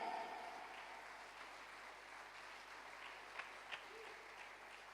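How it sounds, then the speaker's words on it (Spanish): Steady applause fills a church service as the congregation claps for the King, a fairly faint, even wash of many hands that continues throughout with no voices over it. "Dale un fuerte aplauso al Rey."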